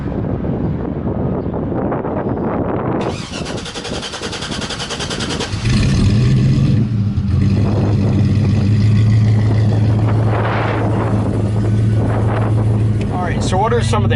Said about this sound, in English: Sometimes it cranks for like 8-10 revolutions before it even begins to try to start